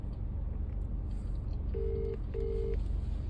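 A phone number is dialed on a telephone keypad: two short, steady beeps in a row over a low background hum, with no voices.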